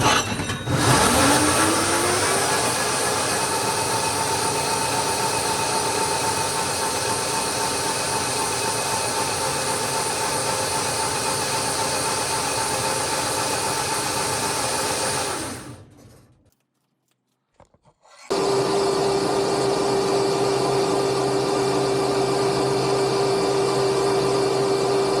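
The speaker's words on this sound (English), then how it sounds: "Will that motor spin a big 35?" A hoverboard hub motor spins a big bike tyre on a DIY 72V electric bike build, producing a loud continuous whirring drone with a rising tone at spin-up, a brief cut to near silence, then the drone resumes.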